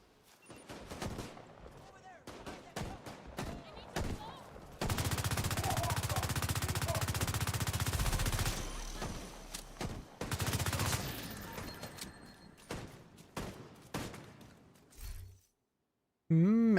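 Rapid bursts of gunfire from The Division 2, a long sustained automatic stretch and a second burst between scattered single and short shots, loud and close, with a player's voice talking in between.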